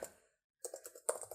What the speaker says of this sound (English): let's just continue typing